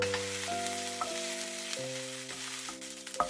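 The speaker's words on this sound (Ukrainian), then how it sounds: "На сковороду додав трохи топленого масла і обсмажую на середньому вогні до золотистого кольору" Onions sizzle steadily in melted ghee in a pan over medium heat, a soft even frying hiss that carries on alone, while faint background music plays sustained tones throughout.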